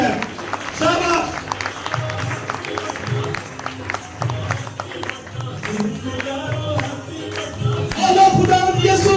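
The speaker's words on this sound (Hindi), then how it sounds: "खुदा के जलाल के लिए जोरदार तालियां होनी चाहिए" Church congregation at a midnight service clapping and cheering amid music and a voice speaking over the crowd, a dense lively mix that swells louder near the end.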